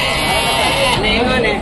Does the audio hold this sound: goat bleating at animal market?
yes